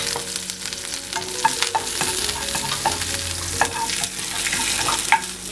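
Whole coriander seeds, cumin and peppercorns fry in a tablespoon of coconut oil in a pan, a steady bright sizzle with frequent scraping and clicking stirs, close and alone.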